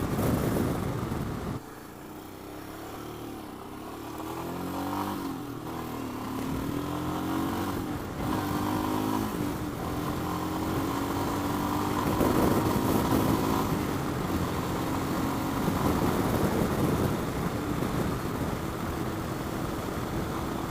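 A Royal Enfield Himalayan motorcycle engine drones steadily while pulling through fourth and fifth gear, heard from the rider's position with heavy rushing wind noise throughout.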